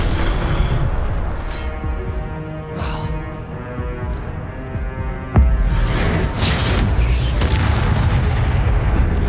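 The Incendio fire spell goes off in Hogwarts Legacy with a sudden sharp blast partway through, leaving a crackling, roaring burn over a rumbling, busy game soundscape.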